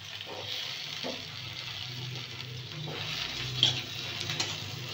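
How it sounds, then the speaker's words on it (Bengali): Potatoes fry in hot oil for an egg curry, giving a steady, moderately loud sizzle with faint crackles and a few soft stirring clinks, no voices. "এখন এই তেলের মধ্যে আলু ভেজে নেব।"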